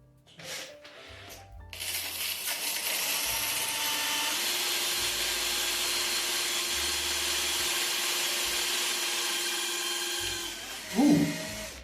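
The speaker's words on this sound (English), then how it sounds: "Now we'll only drill through the tiles on this." A power drill bores steadily through hard wall tile, a loud, close whine with a grinding edge that runs for about nine seconds before cutting off.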